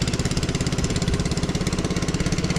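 A Yanmar diesel engine runs steadily with a fast, even chugging pulse much like a boat motor, loud and close with no voices over it.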